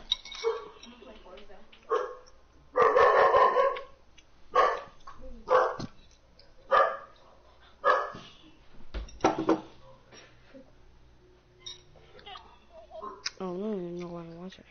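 A pet dog named Tex barks and yips in repeated loud bursts while playing with a toy, close by, with whines in between and people talking nearby.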